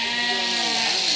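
Sheep bleating loudly and continuously at close range in a shearing shed, a dense chorus of overlapping calls from a flock of around 300 being shorn.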